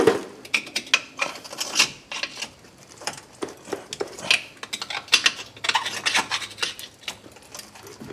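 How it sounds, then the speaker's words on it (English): On a 1998 Subaru Outback, a screwdriver pries the brake caliper piston back, making close, repeated metallic scraping, rubbing and clinking in irregular strokes. "Just pulling the piston, forcing the piston back in a little bit so it'll loosen up on the pads so I can get it off of there."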